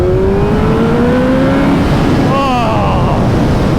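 A 210-horsepower motorcycle accelerates hard on a dark road at night, its engine note climbing loud and close through the gears over heavy wind roar.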